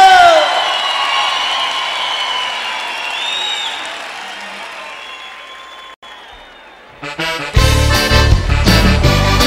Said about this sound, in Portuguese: Cadê os aplausos?